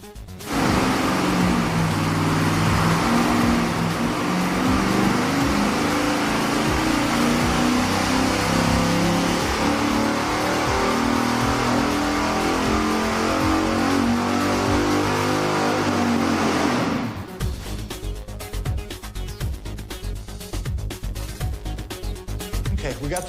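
A V8 engine fitted with shorty headers on an engine dyno, revving loudly and continuously for about seventeen seconds with a rising, droning exhaust note, then cutting off abruptly to leave clattering shop noise.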